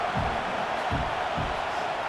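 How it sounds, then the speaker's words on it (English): Stadium crowd in EA Sports College Football 26, an online head-to-head football game: a steady, dense roar with no clear peaks, carrying on for the full stretch. "This crowd bringing the energy and noise early."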